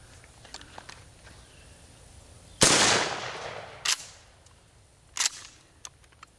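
A Mossberg 500 12-gauge shotgun with an 18.5-inch smoothbore slug barrel fires a wax slug into books: one sharp, loud blast with a decaying tail, followed by two smaller clattering impacts, then quiet.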